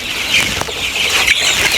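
Sick coloured-bird chickens kept apart on a poultry farm, suffering from Gumboro disease, make a steady dense chatter of clucks and wing flutters, close and continuous.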